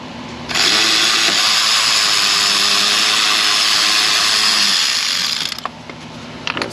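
Power ratchet with an 8 mm socket spinning off nuts and bolts on a Ford 5.0 Coyote engine, one loud steady whir lasting about five seconds that stops with a few clicks and rattles.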